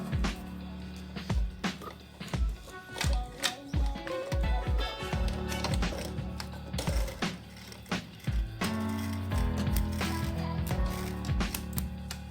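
Sewing machine running in short bursts while stitching elastic shirring thread, rapid mechanical clatter of the needle and gears, close and loud, with brief pauses and handling noises between runs.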